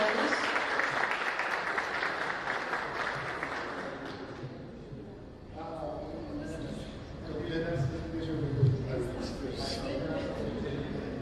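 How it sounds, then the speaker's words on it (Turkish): Audience applause fills the first few seconds at a photography award ceremony, a dense wash of clapping that fades out before a voice speaks over the room. "Birincilik ödülünü almaya hak kazanan Ayşe Karadeniz'e büyük alkışlarla tebriklerimizi sunuyoruz."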